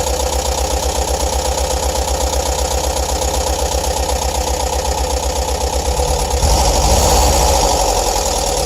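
A bus engine runs steadily at raised RPM with a dense, even mechanical drone and fine rhythmic pulsing throughout. It grows slightly louder and rougher near the end, with no talking.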